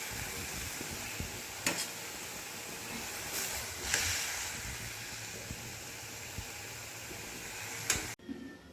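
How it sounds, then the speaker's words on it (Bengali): Drumstick greens (sojne shak) sizzle steadily in a pan as they fry down, a soft continuous hiss broken by a few sharp scraping stirs, fairly quiet, then cut off abruptly at the end. "রান্না করে নেব যতক্ষণ পর্যন্ত না শাকের জলটা একদম শুকিয়ে যায়।"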